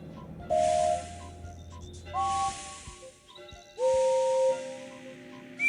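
Steam engine whistles from a Thomas & Friends game sound in three separate blasts, each a clear, loud, sustained multi-tone toot lasting under a second, with quiet pauses between and a soft hiss and background music underneath.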